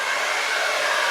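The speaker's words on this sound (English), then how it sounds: "blow dry it in different ways, probably down first, and then towards the left, and then towards the right." Handheld hair dryer blowing steadily on hair, a loud continuous airy rush that holds even throughout with no talking.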